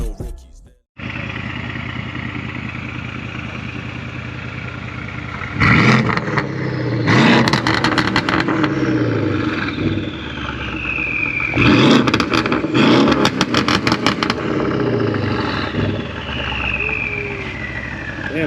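A stock BMW G87 M2 slides through wet corners in the rain, its turbocharged engine roaring and revving hard in repeated bursts, near and loud, with tire spray and turbo whoosh between pulls and a voice talking briefly.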